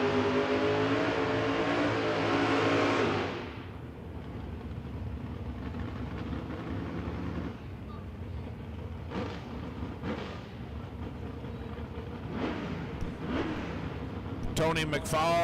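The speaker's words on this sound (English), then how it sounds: "First pair of 650 index cars rolling into the burnout box." Loud engine roar from drag racing cars in a burnout box at a no-prep event at Kil-Kare Dragway, then quieter revving and whirring under a commentator's voice, with sharp bursts of throttle near the end.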